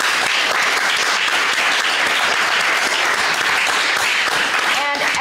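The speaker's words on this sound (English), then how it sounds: "A round of applause for our second panel" A live audience applauds a teen panel at a discussion event in Dunedin, with loud, dense, continuous clapping that fills the hall, steady from start to finish with no talk over it.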